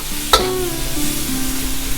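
Shrimp tossed into a pan of frying chicken fried rice with garlic, a sharp clatter at the start followed by steady close sizzling and the scrape of stirring, no voices.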